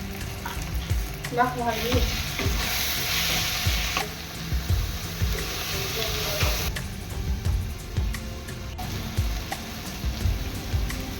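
Meat sizzles and crackles loudly as it is sautéed and stirred in a pan with a little chilli, spatula scrapes clattering throughout, with a brief voice speaking over it.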